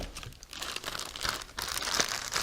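Plastic bag taped inside the cardboard box of a Yamaha ATS-1070 soundbar being pulled loose, making close, continuous crinkling and tearing rustle.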